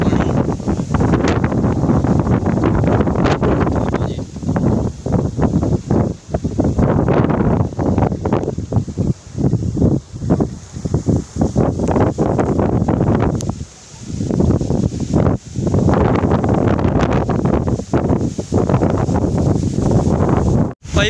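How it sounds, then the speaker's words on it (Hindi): Heavy rain and strong wind while riding a motorcycle, heard as a loud, continuous roar of wind buffeting close up, dipping briefly now and then before surging again, with no clear voices. "बारिश बड़ी तेज़ आ गई है देखो"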